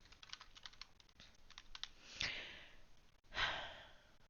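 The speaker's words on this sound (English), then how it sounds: "Ben hammering away at his keyboard in the background" Fast computer keyboard typing in a quiet room, a steady run of light key clicks with a couple of louder breathy swells.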